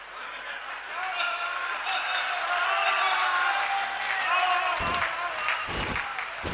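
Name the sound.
audience clapping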